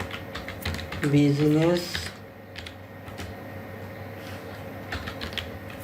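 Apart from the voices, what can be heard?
typing on a computer keyboard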